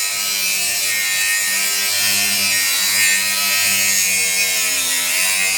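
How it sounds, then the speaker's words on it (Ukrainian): A cordless power tool cutting through an old metal balcony railing during demolition, grinding steadily with a harsh continuous high whine, close and loud without pause. "уже перила зрізали. Напарник дорізає."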